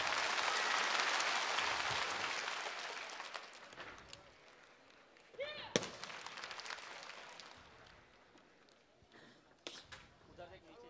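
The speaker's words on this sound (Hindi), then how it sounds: "जोरदार तालियां।" Applause from a crowd at a Republic Day celebration at a school in Akkalkuwa, loud at first and fading over several seconds, followed by scattered sharp claps and faint sounds.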